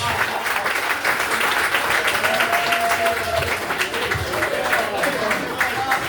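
Comedy club audience gives comedian Dan Silver sustained, loud applause, dense clapping throughout with a voice talking over it.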